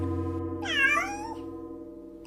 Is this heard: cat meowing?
yes